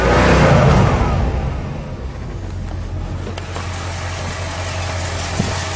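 The engine of a 1935 Mercedes replica, fitted with its original carburetor, runs steadily: a loud rush at the start eases into an even, low idling hum for several seconds, with one faint knock near the end and no voices.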